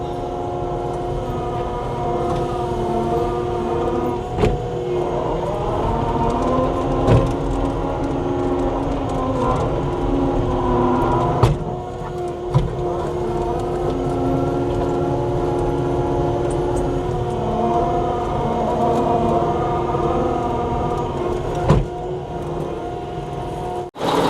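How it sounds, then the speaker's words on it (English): A skid steer shaves down the side of a road beside a new driveway culvert, a steady diesel drone with clanking bucket scrapes and occasional sharp knocks, heard throughout without pause. "Now just a little bit of skid steer work and we'll have this culvert done."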